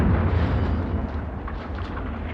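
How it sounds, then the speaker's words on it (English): Distant First World War artillery guns firing on the battlefield, heard as a continuous low rumble of far-off booms rolling on without pause, with no talking over it. "those aren't our guns"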